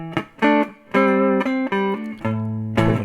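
Amplified electric guitar on its neck pickup, a homemade guitar through an old PV amp, playing a short phrase of picked notes and chords, warm and rounded in tone, each note ringing briefly before the next.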